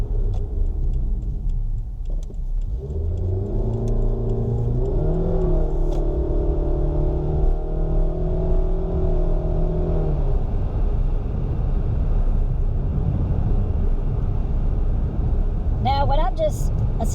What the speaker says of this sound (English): when I'm just accelerating, I let the CVT or the computer do all the upshifting for me